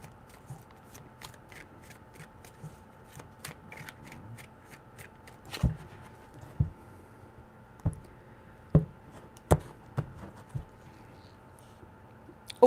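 Tarot cards being shuffled by hand up close, heard as a series of soft papery riffles and sharp slaps in irregular bursts against a quiet, faintly humming room.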